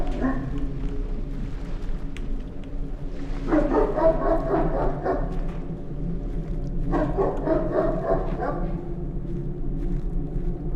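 Dog in the horror video game It Hides in the Forest barks in two separate bursts of rapid barks several seconds apart over a low steady ambient drone.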